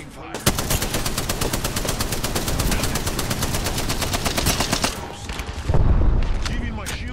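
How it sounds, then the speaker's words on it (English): Automatic gunfire rattles in the Apex Legends video game as a long, rapid stream of loud shots, followed by a short pause and a heavier burst near the end, with a voice briefly heard over the action. "The enemies are shooting at me"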